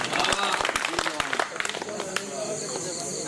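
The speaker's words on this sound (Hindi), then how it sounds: "एक बार तालियां बजा दीजिए" Audience applause at a Hindi poetry recital, sharp scattered claps that blend into a steady wash of clapping, voices mixed in throughout.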